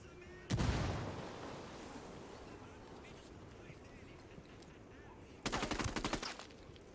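Gunfire in a shooter video game comes as two bursts: a sharp shot that trails into a rumbling echo, and later a quick rattling volley. Both are fairly loud against a low background.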